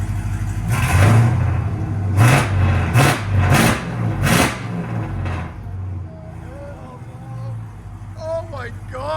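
Demon-swapped Jeep Gladiator V8 with headers and Valvetronic exhaust, valves open, revs in several sharp bursts over a deep rumble, loud and close, with people talking and reacting between the blips.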